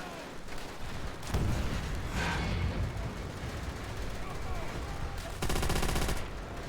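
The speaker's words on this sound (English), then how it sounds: "Ah, Hitler's buzzsaw. AKA the MG42." An MG42 machine gun fires in the World War II shooter Call of Duty: World at War, with heavy, rapid bursts over a noisy battle backdrop. The last burst is a dense, buzzing stream of shots.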